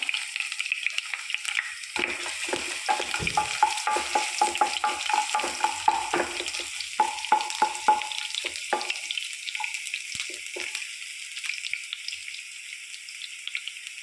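Mustard seeds, ginger and garlic fry in hot oil in a pan, crackling and sputtering steadily with scattered pops, while a spoon stirs and scrapes close by.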